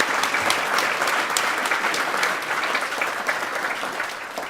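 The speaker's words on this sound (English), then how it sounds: "Round of applause for everybody." A seated audience claps steadily at a City Club conversation with the National Teacher of the Year, a dense, even round of applause that fades slightly toward the end.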